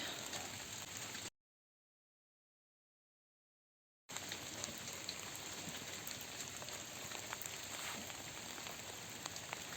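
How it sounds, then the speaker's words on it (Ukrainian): Steady rain patters across a surface in a dense, even hiss, with a short stretch of total silence near the start. "Дощик падає."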